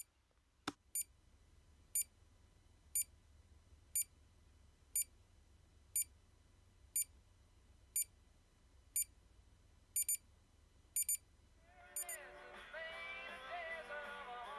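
A Magnasonic clock radio alarm beeps sharply about once a second, doubling near the end, before a louder tone takes over.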